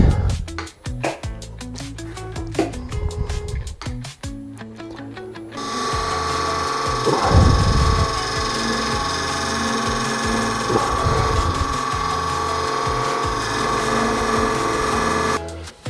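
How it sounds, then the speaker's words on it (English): A lathe tool cuts a tenon on a spinning oak branch, first with choppy, stuttering bursts, then a continuous loud grinding and scraping hum. "Cut out a spot where the tenon will be."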